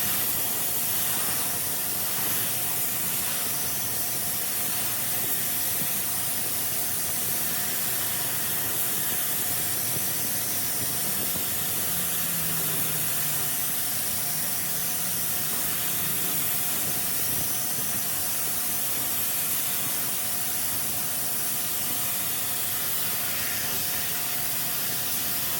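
Spray primer hissing steadily from a gun onto a car body panel during a 1990 Nissan 240SX restoration, a continuous broad spray with no talking.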